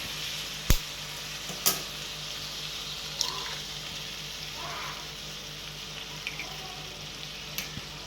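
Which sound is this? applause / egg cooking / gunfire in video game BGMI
egg cooking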